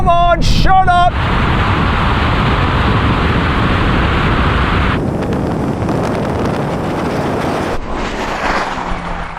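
A Bentley Continental GT pulls hard in a straight-line drag race against a BMW M8, with a loud sustained engine roar and heavy wind rush that eases off after a few seconds. Some short voice bursts come early.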